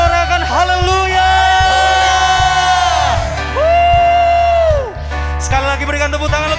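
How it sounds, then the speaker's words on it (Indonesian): A church congregation at a Pentecostal Sunday worship service cheers and shouts hallelujah loudly and continuously, with whoops rising over sustained crowd noise. "Tepuk tangan bagi Tuhan kita. Yang percaya sorakan haleluya."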